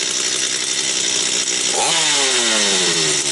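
A Stihl 250 chainsaw under repair runs loudly and close. Its two-stroke engine drones steadily at idle, then gets revved, and the pitch rises sharply before settling into a high whine.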